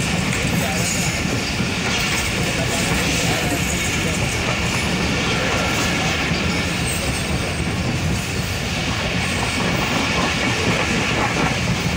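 A passenger train on a Pakistani railway route rolls steadily along the tracks, heard from on board. Its continuous rumble and clatter fill the whole stretch with constant loudness, and no talk stands out above it.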